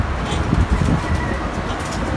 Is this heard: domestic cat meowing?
no